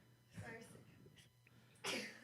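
A sharp, loud sneeze bursts out near the end, following a stretch of indistinct voices and shuffling in a room.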